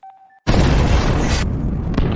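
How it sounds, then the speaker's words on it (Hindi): A loud explosion at a port in the 2014 film The Con Artists, a sudden broadband boom that cuts in after a faint tone and roars on steadily, with no talk over it. "उधर जो भी धमाका कर देता है।"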